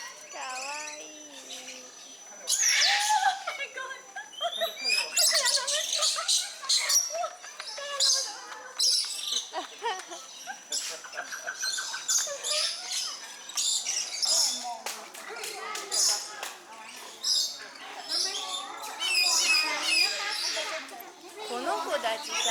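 Parakeets at an aviary bird park in Kuala Lumpur chirp and squawk almost nonstop, with dense overlapping bright calls close by and people talking softly throughout.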